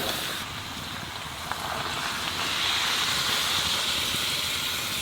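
Cooking liquid poured into a hot pan of chickpeas and mutton trimmings, giving a loud, continuous steamy hiss close by that swells slightly partway through, with no talk.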